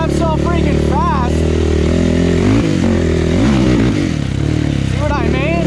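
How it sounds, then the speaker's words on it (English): A Yamaha YFZ450 quad engine screams at high revs, loud and close, with its pitch sweeping up and down in quick bursts as it bounces near its upper limit. "the thing does rev so freaking fast"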